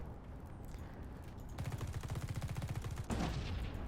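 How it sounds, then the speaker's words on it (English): Rapid automatic gunfire in The Red Solstice video game, a steady burst of close, evenly spaced shots lasting about a second and a half, followed by a sharper burst as crates are shot open, over a low game ambience. "you can shoot these crates to get supplies as well"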